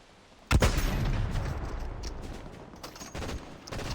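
Fortnite gunfire erupts in a sudden loud volley, followed by sustained rapid shots and distant booms that keep rattling without pause, with no voices over it.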